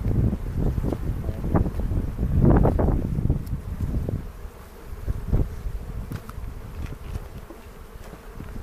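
Honeybees buzz close and loud as a hive is opened for inspection, a dense droning swarm with wind-like rumble, swelling in the middle and easing to a lighter hum.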